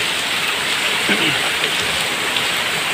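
Collected rainwater splashing and pouring steadily onto a garage floor, a continuous broadband hiss like rain, fairly close and loud, with no talking.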